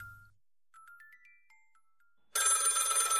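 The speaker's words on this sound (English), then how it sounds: "The phone rings." A telephone rings with a bright, sustained electronic trill that starts abruptly partway through and stays loud to the end, preceded by a few faint tonal blips.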